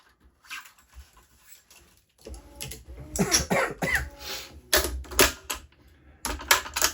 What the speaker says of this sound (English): Seem to always be sneezing and coughing in this country.